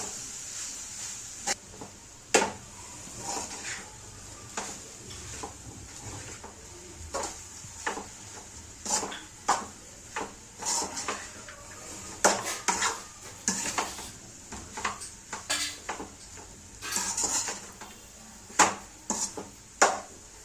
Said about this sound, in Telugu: వండి పెట్టుకున్న అన్నాన్ని వేసి ఒకసారి మిక్స్ చేసుకోవాలి.